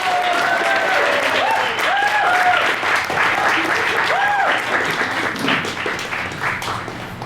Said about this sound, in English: A big round of applause for Paul Edward Costa